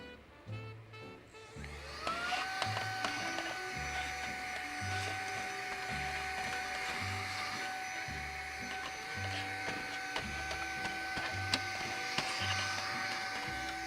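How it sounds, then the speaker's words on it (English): A small handheld vacuum cleaner starts up and runs steadily, a close, loud whine with a rising pitch at startup, alongside a rhythmic low thumping in the background. "I got my little handheld vacuum down here,"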